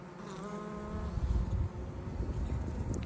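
A honeybee buzzes close by, a low, wavering hum over faint outdoor wind.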